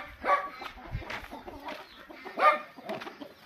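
A hen with chicks in a Romanian farmyard, clucking in short soft bursts at close range, several separate calls spaced unevenly through a quiet background.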